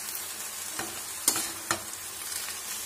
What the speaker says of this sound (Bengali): নাড়াতে থাকতে হবে